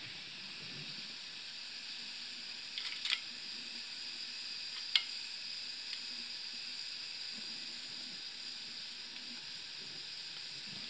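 Onions fry in oil in a pan, giving a faint, steady sizzle with a couple of small clicks, no talking.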